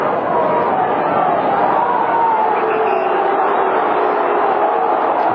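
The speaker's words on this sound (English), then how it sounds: "The crowd hate it." A large football crowd at a 2004 AFL Brisbane Lions v Sydney Swans match at a stadium, producing a sustained, dense roar of disapproval, steady and loud throughout.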